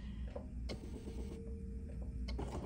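Sewing machine mechanism clicking and whirring briefly as its needle is lowered with a heel tap while making fabric trays, a steady low motor hum with a few sharp mechanical clicks, close and moderately loud.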